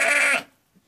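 A single short goat bleat on a farm, close and loud, with a wavering tone that breaks off after a moment and leaves near silence.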